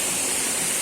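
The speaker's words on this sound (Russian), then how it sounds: "И вот сам водопад." Sukel waterfall in the Skole Beskids mountain forest roars as a steady, dense rush of falling water, loud and close, with no voices over it.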